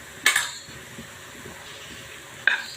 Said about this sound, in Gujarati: સરસ મિક્સ કરી લેવાનું.